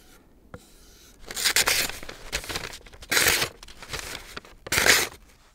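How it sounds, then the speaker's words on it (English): Stainless steel knife blade drawn across a Japanese whetstone in a few separate scraping strokes, each a loud, close, gritty rasp with quiet gaps between. "We use the Japanese whetstone"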